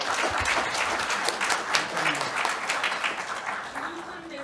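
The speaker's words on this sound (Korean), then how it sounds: "박수 한번 뜨거운 박수로 보내주십시오." A conference audience at a Eurasian forum gives warm applause for the Korean ambassador to Russia, a full, steady stretch of clapping lasting several seconds with faint voices beneath it.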